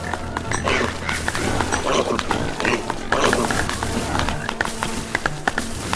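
Constant squealing, grunting and snorting from a crowd of pigs in the game Don't Starve, dense and continuous with short sharp squeaks, game-style animal noise without talk.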